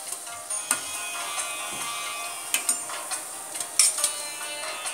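Malai koftas frying in hot oil in a home kitchen, a steady soft sizzle with faint crackles and occasional sharper pops and utensil clinks, no talking.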